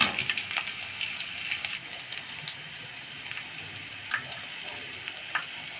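Crushed small onions fry in a pan for a tamarind and dried red chili chutney, making a bright, steady sizzle and bubbling crackle up close with no talking.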